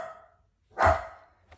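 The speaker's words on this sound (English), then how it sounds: "Hold on, my dog's barking." A single sharp dog bark sounds indoors, fairly close and brief, with a faint trailing sound after it and quiet before.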